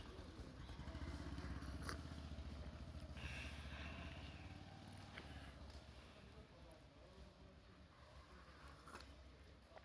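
A motorbike passes through a foggy winter street, its engine a steady low rumble that is loudest early and slowly fades, with faint background voices.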